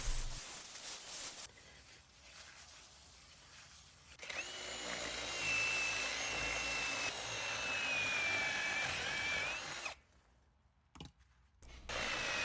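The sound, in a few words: drill with carbide masonry bit hollowing out a stone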